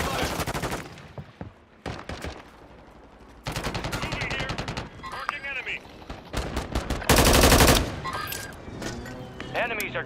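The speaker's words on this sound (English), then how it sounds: "there's no way you're shooting that far with a pistol" Rapid bursts of loud gunfire from a Call of Duty Warzone match, including pistol shots, crackle close by in dense volleys separated by short gaps, with voices talking over the shooting.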